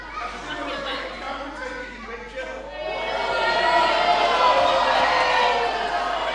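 A live professional wrestling crowd chatters and cheers, a dense steady roar of many voices that swells louder partway through and holds at full volume.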